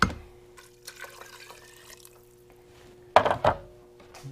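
Water poured into an Instant Pot while making homemade beef stew, a short splashing pour that comes in two quick bursts near the end after quieter dribbling.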